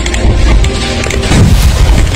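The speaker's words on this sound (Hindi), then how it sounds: "ये धमाके पंजशीर की सीमा पर हो रही है।" Artillery shelling at the Panjshir border in Afghanistan, heavy booming blasts that merge into a loud, continuous low rumble with no speech over it.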